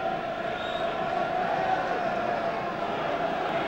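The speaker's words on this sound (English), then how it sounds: "I think the crowd are enjoying this one." Stadium football crowd at Bury v Manchester City on a windy, rainy night, a steady distant murmur of many voices with a faint whistle-like tone, no distinct cheers.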